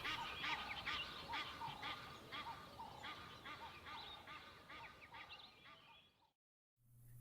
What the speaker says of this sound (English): the troublesome Egyptian geese call from the river below